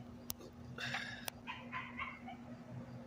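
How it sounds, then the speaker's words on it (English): A dog whimpers and cries out on a street, heard faintly from a distance as a few thin, wavering whines over a steady low hum, broken by two sharp clicks nearby. "There's some dog crying in the street"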